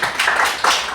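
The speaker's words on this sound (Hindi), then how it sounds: "एक बात ताली बजाओ।" An audience at an RCM business meeting in Dehradun claps together, a short loud burst of dense, close applause lasting about a second.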